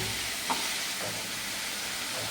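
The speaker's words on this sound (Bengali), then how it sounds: "মশলাটা বেশ ভাজা ভাজা হয়ে উঠেছে।" A steady, loud sizzle of turmeric, cumin and chili powder frying in a pan, with a few soft scrapes of stirring.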